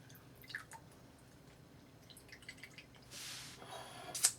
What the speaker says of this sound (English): And then we are gonna squeeze half a lime about to get 50 milliliters of juice.